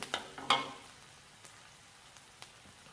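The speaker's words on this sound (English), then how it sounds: "Stir constantly so they don't stick to the wok." Pork fried rice sizzles in a wok, a few quick scraping stirs early on, then quieter crackling with occasional soft clicks, close and alone without voices.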